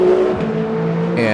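A race car engine in Le Mans Ultimate drones loudly and steadily at high revs, then climbs in pitch as it accelerates while running behind an LMP2 car on the Le Mans circuit.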